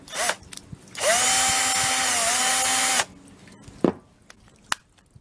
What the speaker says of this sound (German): Und dann bohre ich oben noch ein Loch